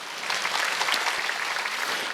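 A church congregation applauding during a worship service, a dense steady wash of many hands clapping at once, sustained and fairly loud throughout.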